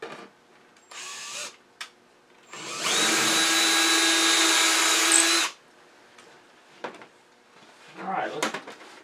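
A power drill bores back into a wooden Easter bunny figure to redo its tail hole, giving one sustained loud whir of a few seconds, with brief clicks and handling noises before and after.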